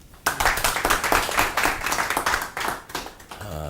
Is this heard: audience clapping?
yes